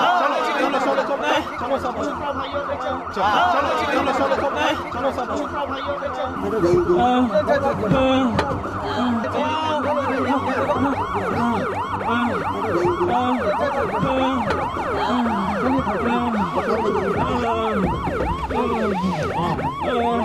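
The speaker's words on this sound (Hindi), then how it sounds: "अरे एम्बुलेंस आ गया भाइयों।" An ambulance siren wails loudly and continuously nearby, its rising and falling tone repeating, while people talk and shout over it.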